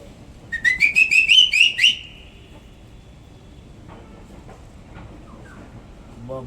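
A quick run of bright, trilling whistled notes mimics a bird call, then stops, leaving quiet background noise with a few faint clicks.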